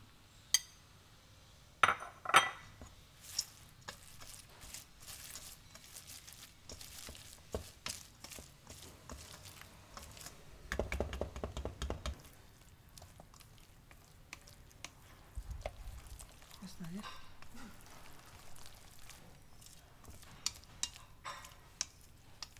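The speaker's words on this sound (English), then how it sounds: "Mix everything until well combined." Quiet, steady mixing of okonomiyaki batter with chopped cabbage and spring onions, with soft squishing and stirring plus occasional utensil clinks against the bowl, all close up with no voices.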